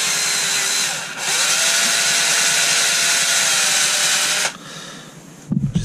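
A power drill bores lightly into a wood and cork rod handle, its motor whining steadily and loudly for several seconds with a brief dip early on, then cutting off, followed by a few handling knocks.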